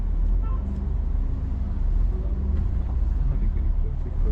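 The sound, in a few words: car (friend Kaushik's vehicle) driving past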